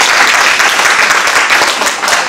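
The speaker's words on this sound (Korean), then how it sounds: "큰 박수로 부탁드리겠습니다." Loud audience applause at a Korean panel discussion on ESG supply chain practices for small and medium businesses, dense close clapping sustained evenly across the whole moment.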